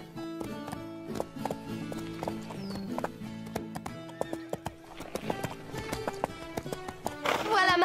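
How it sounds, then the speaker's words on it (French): A horse in the animated Horseland series clip-clops steadily under its rider, the hoofbeats crisp and rhythmic, with a brief whinny near the end. Voices talk over the hooves. "Nous voulons juste te voir monter à cheval."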